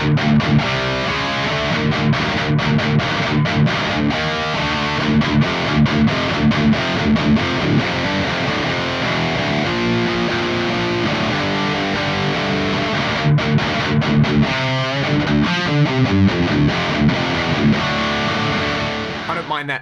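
A high-gain electric guitar played through a Mooer GTRS M800 with BB Pre overdrive into a 5050 amp model and 5050 cab: loud, continuous distorted metal riffing with palm-muted chugs and sustained chords filling the whole stretch.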